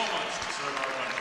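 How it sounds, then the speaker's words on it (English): Loud applause from the crowd at an NCAA women's volleyball tournament match, honoring servicemen and women, a brief dense wash of distant clapping filling the arena. "If you're hearing the loud applause, the servicemen and women are being applauded for all of their efforts protecting us here and abroad"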